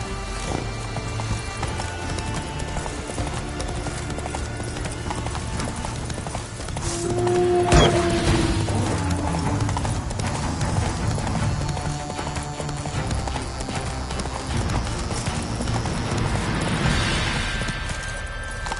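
Roach the horse gallops in The Witcher 3, a steady rapid clip-clop of hooves running under a continuous wash of ambient game sound, with a brief whinny partway through.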